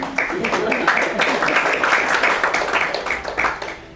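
Audience applause at a literary gathering for a writer's talk on a novel, a steady wash of many hands clapping that holds for several seconds and tapers slightly toward the end.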